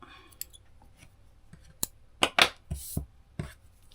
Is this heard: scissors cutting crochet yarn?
yes